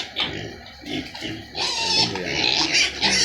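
Pigs on a farm grunt and squeal in a busy overlapping chorus, several animals close by and fairly loud, the noise swelling louder in the second half.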